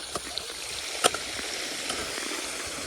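Irrigation water flows steadily through a field channel on a farm, with a soft continuous wash and a few faint clicks and splashes nearby.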